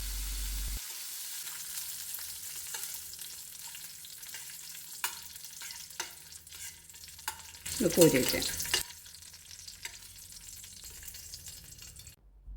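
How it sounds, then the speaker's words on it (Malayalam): Cashews and raisins fry in ghee with a soft, steady sizzle, broken by scattered taps of a spoon and a brief louder burst of crackling. "നെയ്യ് ചൂടാവുമ്പോൾ അതിലേക്ക് കുറച്ച് അണ്ടിപ്പരിപ്പ് മുന്തിരിയിട്ട് വറുത്തെടുക്കാം"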